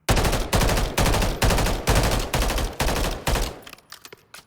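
Holger and DM56 automatic rifles with conversion kits fired at a video game firing range, seven loud, evenly spaced bursts of rapid gunfire, close and punchy, trailing off into faint clicks at the end.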